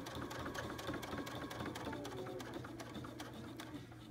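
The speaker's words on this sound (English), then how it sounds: "And we're going to take a few stitches here." A domestic sewing machine stitches quilt binding, its steady motor hum and rapid needle clatter running continuously and close, with no talking.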